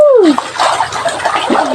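People bathing in a cold stream, water splashing and pouring close by, with voices exclaiming and chatting over the splashes.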